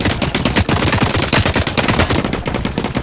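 Loud, close automatic gunfire in the video game The Cycle Frontier, rapid continuous bursts of shots with no pause, easing slightly at the very end.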